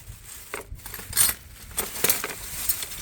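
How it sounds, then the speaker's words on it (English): Butter knives handled and knocked together, giving a few light metallic clinks and scrapes at close range over a quiet background. "And some more butter knives."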